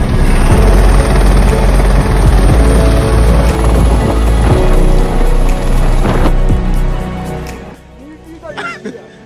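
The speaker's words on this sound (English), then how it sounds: "I'm in a helicopter." From inside a rescue helicopter in flight, a loud, steady rotor and engine roar with rhythmic thumping drones close around, then the noise drops away toward the end, with a few coughs or throat-clearing sounds over it.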